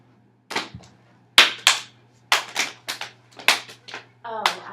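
Sharp hand claps beat out a rhythm pattern: a couple of single claps, then quicker pairs and triplets, close and crisp against a quiet room, ending with a brief voice.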